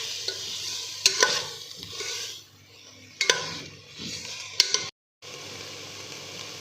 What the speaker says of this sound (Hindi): इसको अच्छी तरह आपने जो है वो मिक्स कर लेना है ताकि जो आपका मसाला है वो इक्वली आपकी वेजिटेबल्स और चिकन के अंदर